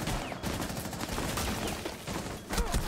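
Bursts of rapid gunfire crackle through a Rainbow Six Siege match, sustained automatic shots with brief gaps, fairly dense and even throughout.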